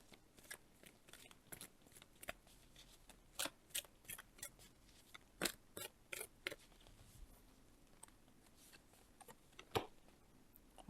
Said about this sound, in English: Get comfy as I'm shuffling the cards.